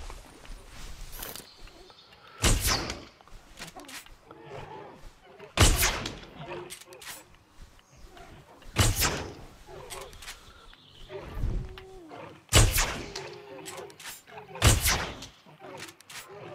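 Gunshots ring out in the dinosaur video game Jurassic World Evolution, a series of loud sharp bangs spaced a few seconds apart over a low game backdrop, with voices talking in between.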